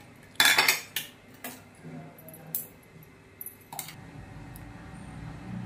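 A pressure cooker of jaggery lapshi lifted off the stove after two whistles, with sharp metallic clanks and clatters of steel against the burner, a loud cluster near the start, then scattered knocks and clicks in a quiet kitchen.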